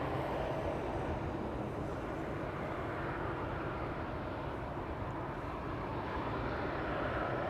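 KLM airliner at Amsterdam Schiphol Airport, bound for Nairobi and being pushed back: a steady, broad jet engine roar, constant and fairly loud throughout with no other sounds standing out.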